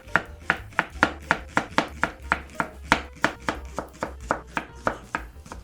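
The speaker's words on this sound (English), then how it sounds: "cut the vegetables into small pieces." Vegetables are chopped into small pieces on a board, about twenty crisp knife strikes in a fast, even rhythm, close and clear with no talking.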